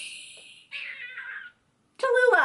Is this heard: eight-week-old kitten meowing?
yes